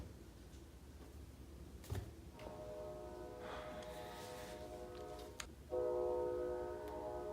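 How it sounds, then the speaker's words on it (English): A distant train sounds its horn, faint sustained horn blasts rising twice over low rumbling rail noise heard from indoors. "That's a train."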